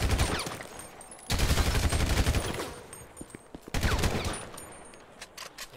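Enemy gunfire in the GTA V LSPDFR police mod, with bursts of rapid shots and heavy volleys that come in two long loud stretches, separated by shorter scattered shots.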